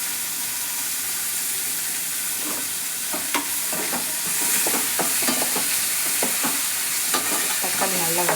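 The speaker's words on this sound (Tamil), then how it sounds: "தக்காளி நல்லா வதங்கட்டும்." Tomatoes sautéing in a pan while spinach dal is cooked, with a steady hiss of frying and sharp, irregular scrapes and clicks of a stirring spoon.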